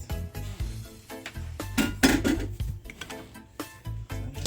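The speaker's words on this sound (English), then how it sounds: "I'm gonna add my cooked peas to it." Cooked peas going into a pot of Jamaican brown stewed beef, heard as scattered close clinks and knocks of a utensil against the pot, sharp and irregular with no talking.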